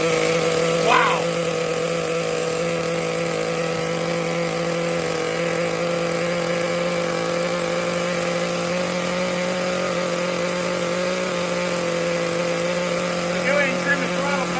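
The nitro engine of a CEN Genesis RC truck runs at a steady, high-pitched buzzing idle throughout, close and continuous, with a faint voice briefly audible over it.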